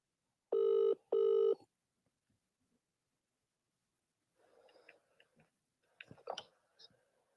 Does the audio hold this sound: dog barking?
no